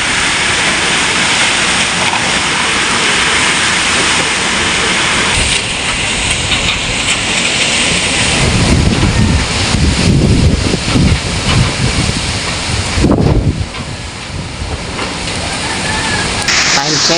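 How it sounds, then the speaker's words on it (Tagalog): Strong typhoon wind (Typhoon Uwan, Albay, Philippines) roaring steadily and loudly, with gusts swelling and buffeting the microphone; a voice briefly in the mix. "malakas yung bayo ng hangin"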